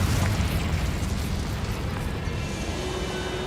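Fiery Confringo spell explosion in the video game Hogwarts Legacy, a loud burst opening into a broad roaring boom that slowly tapers into a sustained rumble.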